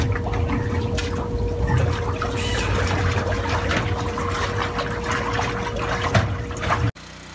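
Water rushing and trickling through a hose while a Keene PHP500 pump is primed by hand, a steady close liquid flow with no voices, ending abruptly.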